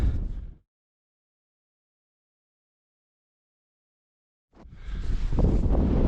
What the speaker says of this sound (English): whilst it's quite windy, it does seem to be blowing the clouds over